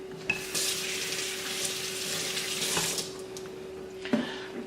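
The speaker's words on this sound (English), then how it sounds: "And then what we're going to do is we're going to rinse this again." Crab legs rinsed under a running kitchen tap, a steady close hiss of flowing water with a few brief clatters and splashes as the legs are handled.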